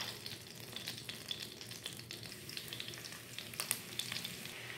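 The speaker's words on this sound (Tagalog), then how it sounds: "So, ngayon, tunaw na yung butter natin. Pwede tayo maglagay na bawang." Garlic sizzling in melted butter in a pan, a faint steady crackle and hiss with occasional small pops and light stirring scrapes, heard close and alone.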